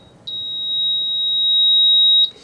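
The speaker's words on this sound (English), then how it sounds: "Sorry for that excessively loud beeping." A NuWave Todd English Pro-Smart oven gives one long, loud, steady high-pitched beep that lasts about two seconds and then stops, with no one talking.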